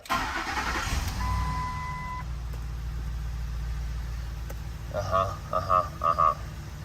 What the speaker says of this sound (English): Okay, I'll start the engine.